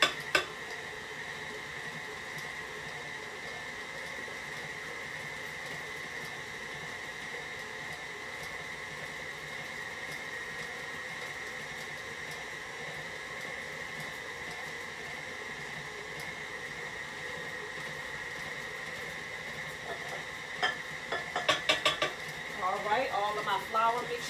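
An electric mixer whirs at a steady pitch as it beats thick homemade chocolate chip cookie dough. Near the end, a few clinks and knocks rise over the even drone.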